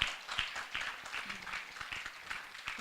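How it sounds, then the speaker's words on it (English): A small audience at a school event claps as a guest is introduced, sparse, uneven applause with a few distinct claps standing out, heard at a quiet level in a roomy space. "A round of applause."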